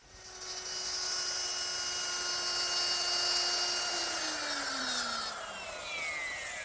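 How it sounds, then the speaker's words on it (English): A handheld router with a 3/8 inch straight bit cuts a straight groove in wood along a clamped straight edge, giving a loud, sustained high whine that holds steady and then drops slightly in pitch as the bit bites, running alone throughout. "I'm going to start with a 3/8 inch straight bit set up in my router."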